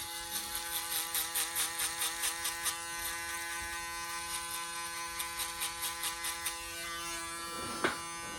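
A foil shaver buzzes steadily close up while shaving hair during a high taper haircut, with a pulsing rhythm of passes over the head that fades toward the end.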